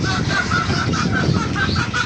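A crowd of chickens on a poultry farm cluck and chatter continuously, with dense overlapping calls close by and loud throughout.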